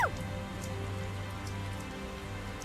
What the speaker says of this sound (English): Tell us the details after we find shelter from the rain, if you please.